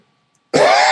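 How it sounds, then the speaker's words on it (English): After a moment of near silence, a single harsh, rasping cough from someone with a cold bursts out loudly and close up. "And I had a cough from my cold."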